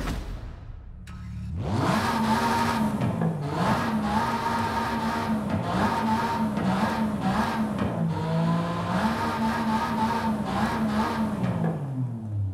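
A Porsche Cayman GT4 RS in Forza Horizon 5 cranks to life after a brief pause, then holds a loud, steady idle with repeated sharp revs rising and falling, close and alone with no talk.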